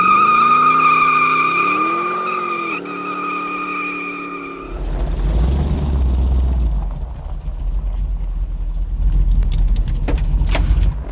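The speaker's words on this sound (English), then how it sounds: "Nothing like a little afternoon drive in a big block." A big-block Baldwin Motion muscle car accelerates with tires squealing in a loud tonal screech that wavers for several seconds, then gives way to a heavy rumbling engine roar and road noise.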